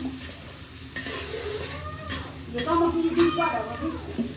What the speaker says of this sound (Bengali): এখন আমি এখানে মাছ ভোনা করছি